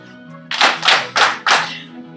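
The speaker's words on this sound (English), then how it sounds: "Clap, clap, clap, clap." A class of children clapping hands together in unison, four loud, sharp group claps in a steady rhythm, fairly close.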